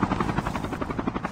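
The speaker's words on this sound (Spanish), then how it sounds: "Ay, se subió en el helicóptero" A helicopter in the video game Call of Duty: Mobile thrums steadily with a fast, even rotor chop, loud and close, filling the whole stretch without any talk over it.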